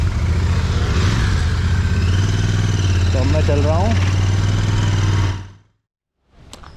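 A freshly serviced Royal Enfield Interceptor 650 motorcycle engine idles loudly and steadily up close, with someone speaking briefly over it, before the sound cuts off abruptly.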